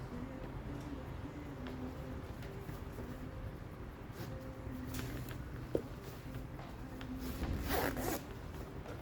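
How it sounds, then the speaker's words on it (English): A zipper runs along the fabric of an iCandy Peach carrycot, a quiet, continuous scratchy rasp lasting several seconds with a few brighter pulls near the end, close up. "Just zip it up."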